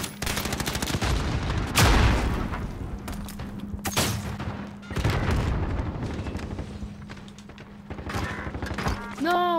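Rapid bursts of gunfire and booming shots from the console shooter Modern Warfare, snake shot rounds in a 4v4 gunfight, dense and loud throughout with explosions, while a player talks over the action.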